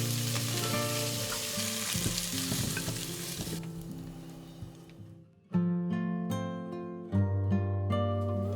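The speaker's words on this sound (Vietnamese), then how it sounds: "Bước xào này giúp bán đi mùi chua của măng và giúp măng thơm hơn." Bamboo shoots stir-fried in a hot pan with seasoning, a loud steady sizzle with scraping stirs that cuts off and restarts in sharp bursts.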